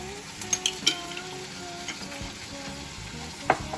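Ching's green chili sauce sizzling in a hot pan for home-style chilli chicken: a steady close frying hiss with a few sharp clinks of a utensil stirring against the pan.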